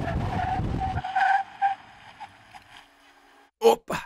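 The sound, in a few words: BMW 530e braking hard, tires skidding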